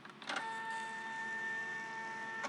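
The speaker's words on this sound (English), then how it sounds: "my label printer" A Zebra ZT230 thermal transfer label printer runs through a print, giving a steady whirring motor hum with a sharp click or clunk at the start and another at the end.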